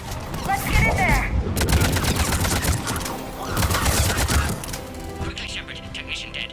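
Rapid bursts of gunfire and sharp cracks ring out at a checkpoint in the Mass Effect 3 video game, dense and loud throughout, with game music and voices mixed underneath.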